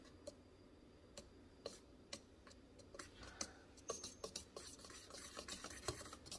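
Dry flour, baking soda and salt are stirred together in a bowl, quiet scraping and soft ticks of the utensil against the bowl, growing busier and louder toward the end.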